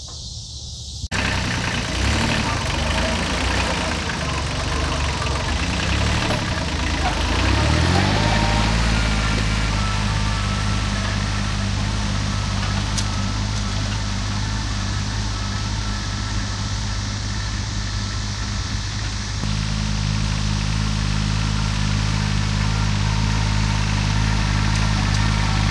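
A small tractor drives back and forth while plowing a field, its steady engine drone rising and settling into a loud, continuous low rumble that holds close by throughout.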